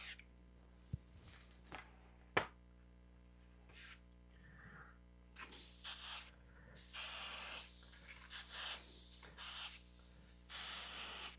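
An airbrush sprays black and grey paint in bursts, its hiss cutting in and out over a constant low electrical hum, with a few sharp clicks early on before longer sprays follow.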